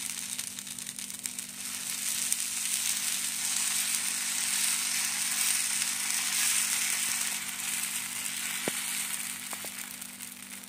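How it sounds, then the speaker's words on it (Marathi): Rava dosa semolina batter sizzling on a hot pan, a steady hissing crackle that swells and fades gently over several seconds, with a couple of faint clicks near the end and a low background hum. "बघा आता आपल्याला डोसा घालून घ्यायचा आहे।"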